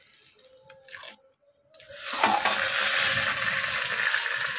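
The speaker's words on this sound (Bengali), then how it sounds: "এর মধ্যে তেজপাতা দিয়ে দেব" Bay leaves dropped into hot oil in a wok sizzle loudly and steadily after a brief quiet, a bright continuous hiss with crackling pops, close up and alone.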